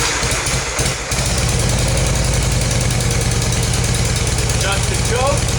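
A 1981 Harley-Davidson Low Rider engine runs close and loud in a lumpy, pulsing idle that continues throughout, with a short dip in the first second.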